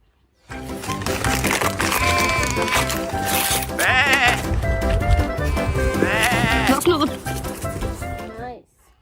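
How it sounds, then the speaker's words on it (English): A toy sheep gives out a loud, electronic bleating call, wavering and repeated across several seconds, close and clear, starting and stopping abruptly. "Wow, this is a sheep."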